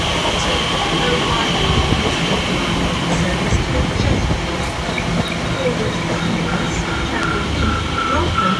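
A London Elizabeth line train running from Paddington to Shenfield, class 345 unit, passes with a loud sustained rumble and rolling wheel noise, steady throughout at close range with faint brake squeal tones.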